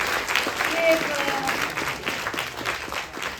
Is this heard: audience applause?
yes